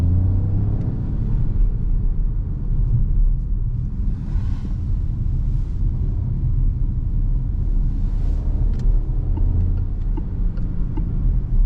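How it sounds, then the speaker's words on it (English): A 2024 Peugeot 2008 PureTech engine drones steadily at low pitch throughout, a constant rumble with slight swells as if driving at moderate speed, no voices. "And I also love the sound of this engine."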